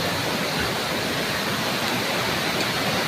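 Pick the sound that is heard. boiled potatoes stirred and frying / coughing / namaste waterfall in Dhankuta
namaste waterfall in Dhankuta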